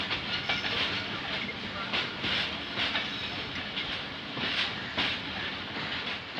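A train at a railway station in Karachi, rolling with rhythmic clickety-clack and a steady hiss of wheels on rails, with a voice speaking faintly underneath.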